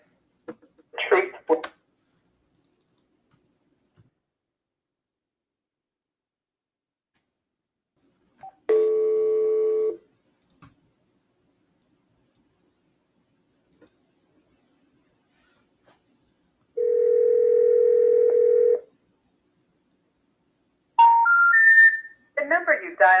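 On a cold call, a phone line gives long steady tones with long silences between them, followed by a voice speaking near the end.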